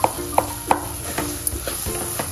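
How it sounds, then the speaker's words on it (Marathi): Bananas sauté in ghee over low to medium heat for a Satyanarayan puja prasad, a steady sizzle broken by several sharp, close spoon taps and scrapes against the pan. "तुपातच छान केळी सुद्धा छान परतून घ्यायची।"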